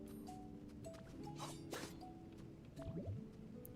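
Soft, close drips and squishy liquid splashes from a Pokémon using Water Gun in Pokémon Pokopia, scattered irregularly over a faint, steady background with small chirpy game tones.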